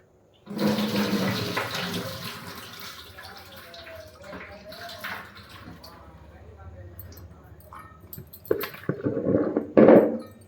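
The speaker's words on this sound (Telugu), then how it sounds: "ఇప్పుడు నీళ్ళు పట్టుకోవాలి. దీంట్లోకి" Running tap water pours into a vessel, a gushing stream that shifts in tone as it fills, with a person talking faintly under it.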